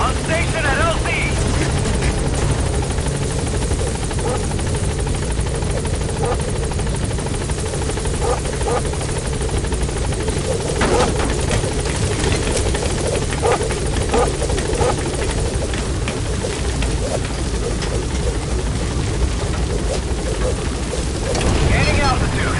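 The Pequod helicopter in Metal Gear Solid V hovers at a landing zone, its rotor thrumming steadily and loudly throughout with a dense, unbroken roar, while radio voices talk over it.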